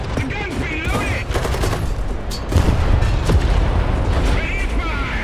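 Tank cannon and battle gunfire in War Thunder from an M4A3 (105) Sherman, dense booming and rattling shots throughout, growing heavier midway, with voices under the din.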